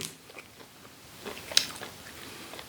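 Someone bites and chews a rolled, pressed dried cuttlefish snack from the Snack Town brand. Several quiet, close, sticky bites and crunches come in short bursts with pauses between them, and no speech.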